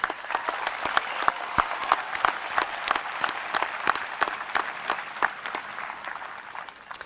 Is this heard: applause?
yes